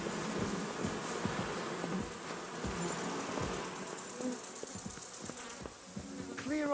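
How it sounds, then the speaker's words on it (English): Dense droning buzz of a swarm of bees in Kingdom Come: Deliverance II, close and continuous, with scattered clicks and ticks in the background. "Those are my bees!"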